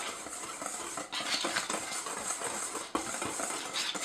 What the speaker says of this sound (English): I'm going to whisk it up.